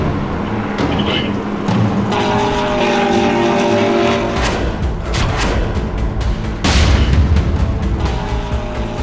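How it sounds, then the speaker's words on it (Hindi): Israeli Heron Mark II drone flying overhead, a steady loud propeller-engine drone that persists throughout, swelling in intensity near the end with no voices. "सन्नाटे को चीरती आवाज और आसमान में हेरॉन मार्क II की परवाज दुश्मन के दिल में दहशत पैदा कर रही है।"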